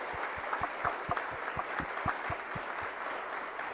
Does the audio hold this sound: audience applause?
yes